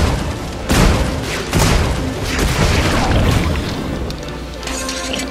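Gunshots ring out in a fantasy role-playing video game, several heavy booming blasts at irregular intervals, loud and close, with a rumbling tail between shots.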